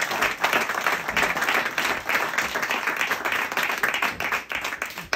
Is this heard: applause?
yes